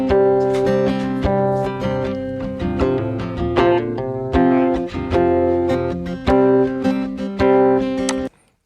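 Cheap acoustic guitar played close and unprocessed, a series of plucked and strummed chords with a thin, boxy tone, moderately loud, stopping abruptly at the end with no talking.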